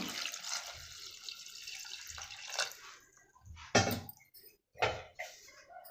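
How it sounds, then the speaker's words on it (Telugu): Water pours close by into a pressure cooker of dried cowpeas with turmeric and tamarind, in a few uneven splashing bursts with brief pauses between them and no voices. "దానికి సరిపడమైనండి వాటర్ వేసుకుంటున్నాను"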